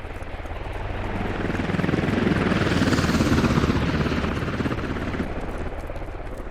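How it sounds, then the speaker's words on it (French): A helicopter flies in the military video game Squad, its loud rotor chop swelling as it passes close overhead and then fading slightly, steady and alone throughout. "L'hélico c'est ennemi là?"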